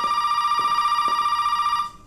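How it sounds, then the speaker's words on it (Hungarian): Telephone ringing in Resident Evil 7, a loud, close, continuous electronic ring with a steady buzzing warble that holds for nearly two seconds before cutting off abruptly. "Neked így csörög a telefonod, nem?"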